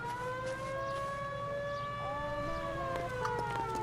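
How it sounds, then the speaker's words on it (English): A siren in the video game L.A. Noire wails steadily with a long rising and falling tone, sounding distant and faint over a low background hum. "just another random siren"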